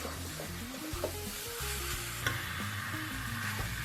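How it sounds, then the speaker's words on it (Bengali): Mutton pieces fry in a pan for a spicy Indian mutton curry, making a steady sizzle with soft stirring under background music. "ঠিক তোমরা এরকম করে ভেজে নেবে আমি ঠিক যেভাবে ভেজে নিচ্ছি"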